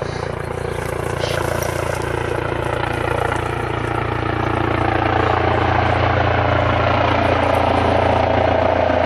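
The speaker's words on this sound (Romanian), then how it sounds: "medicii din Satu Mare au solicitat un elicopter SMUR pentru a fi transportat de urgență la" SMUR medical helicopter transporting an infant patient, its steady rotor and engine drone continuous and fairly loud throughout, with no voices.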